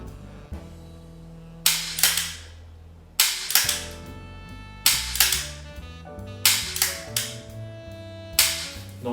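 Sharp gunshots crack out one after another as targets are engaged in a shooting sequence, irregularly spaced loud reports with ringing tails, heard over steady background music and no talking.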